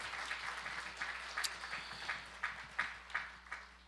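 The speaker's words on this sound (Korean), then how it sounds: "우리 다시 한 번 더 우리 축복의 박수 하겠습니다." A church congregation claps during a Christmas Day Sunday worship service, a fairly faint, even patter with a steady pulse of sharper accents, as though some hands keep a rhythm.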